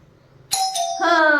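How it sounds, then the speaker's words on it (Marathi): A doorbell chimes twice, a bright two-tone ding-dong with ringing overtones, loud and close, following a moment of quiet room noise. "वाजली परत घंटी"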